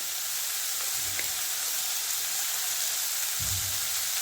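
Asafoetida powder sizzles in hot oil for an ivy gourd stir-fry, a steady close hiss with two soft low thumps of stirring or movement partway through.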